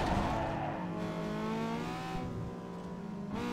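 A car in Need For Speed Underground 2 with a suspected VTEC problem, its engine revving and climbing through upshifts with a brief tire squeal, loud and continuous with no talk.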